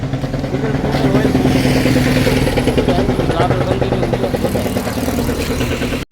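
A tractor's chugging diesel engine runs steadily at close range as it drives off, a low rhythmic thump, with a voice talking over it.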